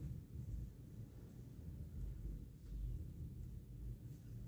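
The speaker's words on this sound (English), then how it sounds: "Any noise you can hear, that's wind." Low, steady wind rumble buffets the microphone, rising and falling in gusts, with no voices.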